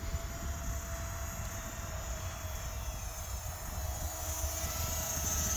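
An Eachine Mini P-47 Razorback 500mm RC model airplane flies outdoors in wind, its small electric motor a steady high whine over continuous low wind rumble, alone without talk.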